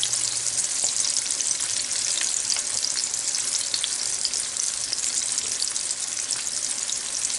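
Chicken drumstick lollipops, dredged in flour and egg, fry in hot oil with a steady, loud, close crackling sizzle that runs the whole time, with a few faint clicks and no voices.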